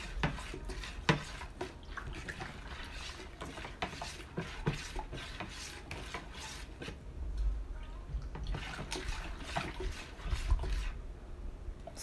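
Homemade bubble solution is stirred in a container, giving quiet, irregular liquid swishes and light clinks close by with no talk.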